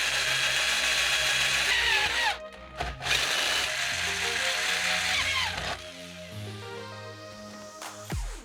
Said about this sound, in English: There's two holes right here I have to drill out so that the shift linkage could bolt up